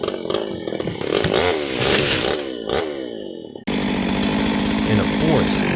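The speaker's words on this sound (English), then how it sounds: "A worker approaches, a chainsaw roaring loudly in his hand" A loud chainsaw roars close up while cutting through a large twisted tree trunk in a forest, its engine revving and bogging in sustained bursts, with a sudden shift to a harsher, steadier whine partway through.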